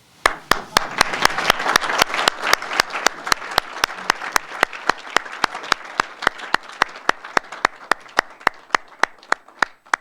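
An audience applauds at the Alberta Order of Excellence awards ceremony: sustained, dense clapping from many hands, steady and fairly close, gradually thinning out, with sharp regular clicks running through it.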